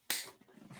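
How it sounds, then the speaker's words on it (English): A single sharp clap rings out close by, a crisp burst followed by a brief faint decay. "I'm going to clap over here."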